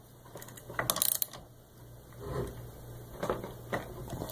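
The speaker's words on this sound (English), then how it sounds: "with two hands, you're going to really tighten these a lot." Nuts being tightened during assembly of a Z600, with close metallic ratcheting clicks and rattles, one quick burst of clicks early on, then softer scraping and turning over a faint steady hum.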